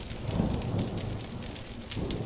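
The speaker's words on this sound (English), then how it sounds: "Oh, there's rain, too." Rain falls in the candle video game Flicker of Hope, a steady broad wash of patter with low rumbling undertones, moderately loud and continuous.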